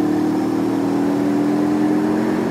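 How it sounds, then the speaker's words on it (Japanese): A mid-pitched parallel-twin engine with a 180-degree crank on a Honda CL500 motorcycle hums steadily and loudly after a downshift to third gear, holding a fairly even rev with a slight rise, close by. "今3速にシフトダウンしました。"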